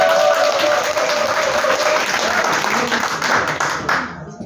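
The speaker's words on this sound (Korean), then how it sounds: "대단한 김건희한테 박수 한번 주세요" Audience applause during a lecture on microcurrent applications in Yatap: a room of people clapping loudly and steadily, then tapering off near the end, with faint voices underneath.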